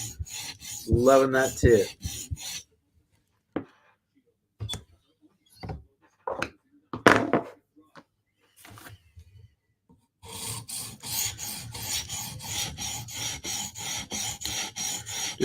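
Light cleanup strokes of a blade on a whetstone, all in one direction: rhythmic raspy passes at start and end with scattered scrapes and taps between, close by, and a brief spoken remark.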